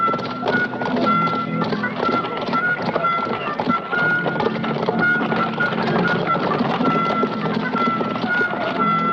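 Several horses' hooves clatter continuously on a hard surface, a busy, steady clip-clop with a constant low rumble beneath.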